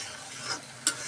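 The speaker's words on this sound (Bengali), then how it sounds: "আবারও উঠে একটু নাড়াচাড়া দিলাম, নেড়ে ছেড়ে না দিলে তো তলে লেগে যেতে পারে।" A spoon stirs a coconut prawn malai curry in a pot, with a soft steady simmering sizzle and two brief scraping strokes.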